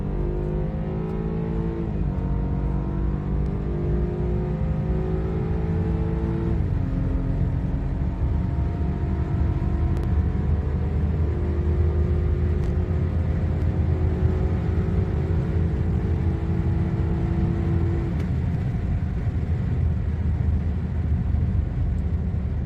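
A stage 1 chip-tuned BMW F30 328i accelerates hard from 100 to 200 km/h, its engine droning loudly and rising in pitch through each gear, with two distinct drops at the upshifts.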